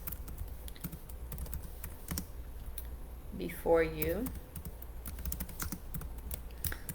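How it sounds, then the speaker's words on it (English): Rapid clicking of computer keys typing steadily throughout, with a brief spoken question partway through. "I'm always typing here with one hand."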